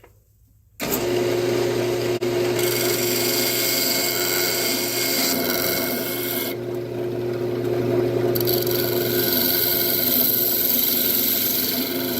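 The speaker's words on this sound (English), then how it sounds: "let's go ahead and work on flattening this and then sanding it" A loud, steady whirring of a power sander on a wooden bowl runs continuously after a brief quiet start, with a short dip partway through.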